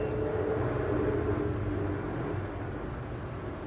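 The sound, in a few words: airplane flying overhead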